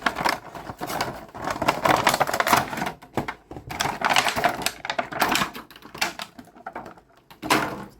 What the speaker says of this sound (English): the opposite of ASMR would be me ripping open a Funko Pop package